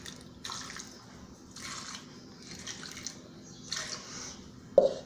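Two cups of water go into a pressure cooker pot holding picanha and onion cream mix, heard as several soft, splashy pouring bursts with short pauses between, ending in a sharper splash.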